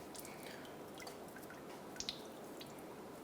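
Antifreeze dripping from the thermostat housing of a 2007-2012 Nissan Altima: a couple of faint, close drips land in quick succession over a steady low hiss.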